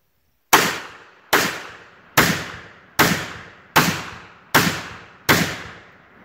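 Seven sharp gunshots fired at homemade body armor, evenly spaced about a second apart, each loud crack followed by a short decaying echo, with no talking.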